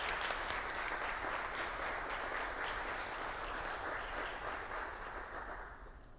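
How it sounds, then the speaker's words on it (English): An audience at a university awards event applauds the poster competition teams and their professors with steady, dense clapping that fills the whole stretch and tapers slightly at the end. "Let's give a warm applause for these teams and for their professors"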